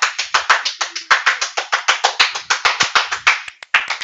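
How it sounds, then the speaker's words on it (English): Rapid, crisp hand claps heard through a gaming headset during a Valorant scrim, about two dozen sharp, evenly spaced claps with a brief gap near the end, loud and close with no talking. "Man, the clapping, like, doubled in the headset"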